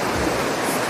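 A river flows steadily in Sedona, Arizona, giving a loud, unbroken rush of water close by, with no voices.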